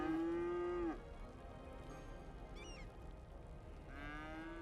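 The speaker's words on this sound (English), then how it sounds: "Fucking cows are on fire!" Cattle burning in the video game Cities: Skylines let out two long, loud moos, one at the start and another near the end, with faint chirps and game ambience in between.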